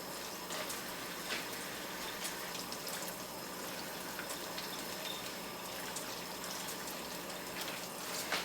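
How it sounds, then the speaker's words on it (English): Mushrooms are rinsed under running kitchen tap water, a steady soft hiss and splash with faint clatter, fairly quiet throughout. "I'm still giving them a quick rinse"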